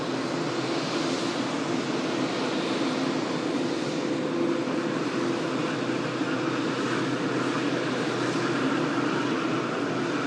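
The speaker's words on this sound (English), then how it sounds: "we're going to just bring in this stunning, beautifully liveried Saudia 787" A Saudia Boeing 787 Dreamliner moves nearby, producing a continuous broad jet engine roar and whine that holds steady and fairly loud throughout, without talk.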